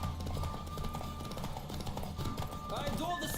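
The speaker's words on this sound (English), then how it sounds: "Don't spare the horse!" A horse gallops in the Witcher 3 video game, its rhythmic hoofbeats running under a voice talking over the action, with game sounds and a rising tone near the end.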